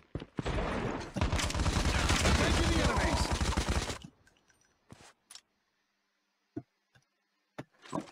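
A burst of rapid, dense gunfire in the battle royale mode of Call of Duty Mobile lasts about three seconds up close. A few sharp isolated shots and clicks follow in a quieter stretch.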